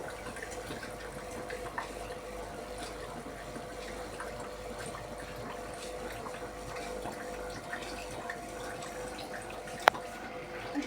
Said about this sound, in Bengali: মিস্ত্রি বুঝগুলো উঠে ওপরে জলটা বাইরে বার করে দিচ্ছে